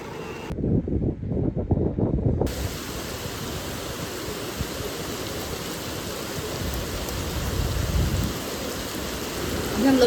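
Strong typhoon wind and heavy rain in China buffet the building, rattling doors and windows in a constant roaring wash with low rumbling gusts that swell and ease throughout.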